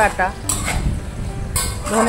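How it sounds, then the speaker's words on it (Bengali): Prawns fry with spices in a pan while a spoon stirs them. Scraping and two sharp metallic clinks sit over a low sizzle, with faint talk in between. "চিংড়িগুলো ভাজা হয়ে এসছে, মশলা থেকেও তেল ছেড়ে দিয়েছে।"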